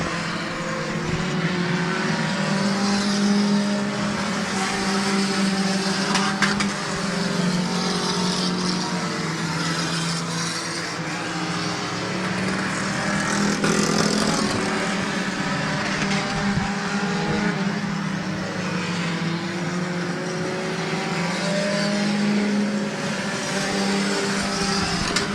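Stock cars race around Midvale Speedway, a steady distant roar of several engines droning and swelling as the pack circles the track, continuous for the whole stretch.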